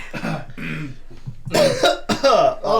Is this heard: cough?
yes